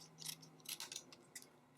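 Scissors snip through paper while trimming a Valentine's Day card, a few quick close crisp cuts in short clusters, quiet and alone.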